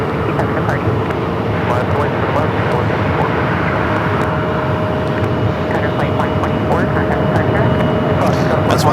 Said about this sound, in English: we got that 767 now rolling down at 7 left, heading to LAX.